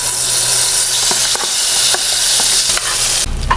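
Ground banana mixture stirred into hot ghee for banana halwa sizzles and hisses steadily in the pan, with a spoon scraping at intervals and a brief clunk near the end.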